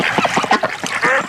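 A toy duck gives a series of loud, close, raspy quacks in quick succession, several honking calls packed into about a second, with no talking.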